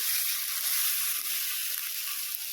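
Spice paste for Bengali aloo dum sizzles steadily in a pan over a lowered gas flame as a splash of water goes in; a loud, continuous hiss with no pauses, heard on its own.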